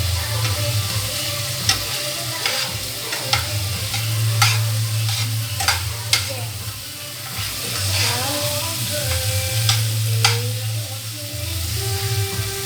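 Crab meat dish being stirred and mixed in a hot pan, with a steady sizzle broken by sharp spatula scrapes and taps against the metal at an irregular pace.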